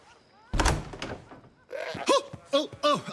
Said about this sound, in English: Open this door or I'll kick it in!